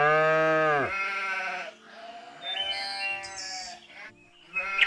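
Sheep and goats on a farm bleat in a loud, drawn-out call that opens the moment, followed by softer, wavering animal cries and bleats scattered through the rest.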